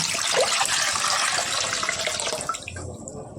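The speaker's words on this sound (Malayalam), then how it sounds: "കൂക കലക്കി വെള്ളം അതിൽ ഒഴിക്കുക" Arrowroot starch mixed with water is poured into melting jaggery on a gas stove, giving a steady, close splashing pour that eases off near the end.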